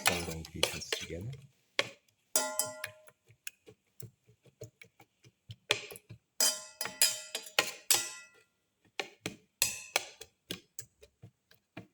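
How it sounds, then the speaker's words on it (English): Omelette ingredients, including chayote and black pepper, are mixed and crushed in a bowl, giving irregular close clinks and scrapes of a utensil against the bowl in short bursts separated by quiet gaps. "Thoroughly mix and crush all the ingredients together."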